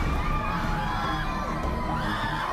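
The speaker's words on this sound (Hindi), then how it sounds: "देखते ही देखते दरबार में चीख पुकार" A crowd at a religious gathering at Bageshwar Dham screaming and crying out, a dense, loud wall of overlapping shrieks and wailing voices that holds steady throughout.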